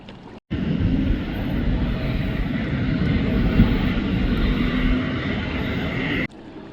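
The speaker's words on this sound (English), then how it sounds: "Another American Airlines jet just coming in for a landing" An American Airlines jet descends to land at LaGuardia Airport in New York, heard from a kayak on the nearby water. Its engines make a loud, steady roar that holds for several seconds under wind noise, then cuts off sharply.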